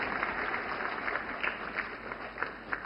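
At a Sashakt Nari-Sashakt Bharat event held to honour women, an audience claps to welcome a guest. The applause is a dense, continuous patter of many hands at moderate volume, with no voices over it.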